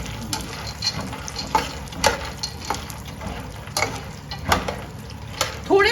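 Flaxseed ladoo ingredients frying in a pan, continuous sizzle broken by repeated scraping and clattering stirs of a spoon, close and moderately loud, no talking.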